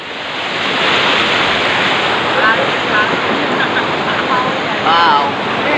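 Flowing river current at a swimming spot, a steady broadband rush of water filling the whole clip, with faint bird-like chirps and brief voices near the end.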